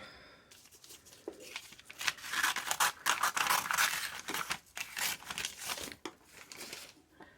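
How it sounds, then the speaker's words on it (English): Scissors snip and crinkle through a paper tag in a craft setting, with soft, close cutting sounds and rustling paper in uneven bursts. "And then you can cut it out."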